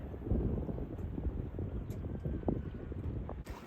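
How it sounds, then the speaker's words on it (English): Gusty wind swirling over mountains while sailing a jib-rigged boat on a broad reach, a continuous buffeting roar against the microphone with irregular louder gusts. "the wind is doing some crazy things because it's blowing over these mountains and just swirling around"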